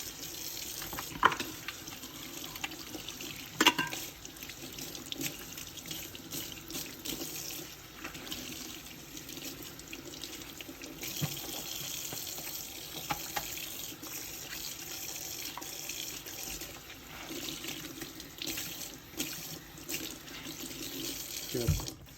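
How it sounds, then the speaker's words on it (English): A tap runs steadily into a sink while it is cleaned of paint, a continuous soft splashing broken by occasional clatters and light knocks, close and moderately quiet. "we're going to go ahead and clean the sink nice and good"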